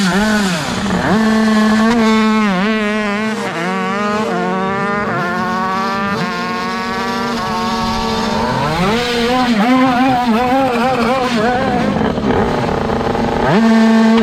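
High-pitched two-stroke racing scooters at a drag race, engines screaming and revving up and down through repeated rising and falling pitch sweeps, loud and close, with a steady low rumble underneath.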